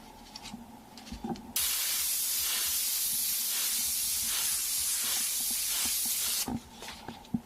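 An airbrush lays a wide spray of paint across two rolled edges at once, a loud steady hiss lasting about five seconds, framed by quieter handling noises before and after.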